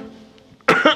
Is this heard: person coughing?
yes